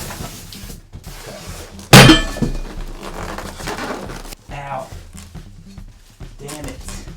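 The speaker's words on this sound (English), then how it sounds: "I may have blasted my shin with the stand" A monitor stand slams into a shin with one sharp, loud thump during an unboxing, followed by someone talking and grunting.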